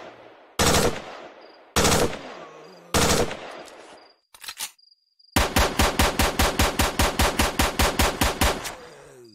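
Gunfire in S.T.A.L.K.E.R. Shadow of Chernobyl: three loud single shots with decaying echoes, a short burst, then a rapid automatic string of about twenty close rounds.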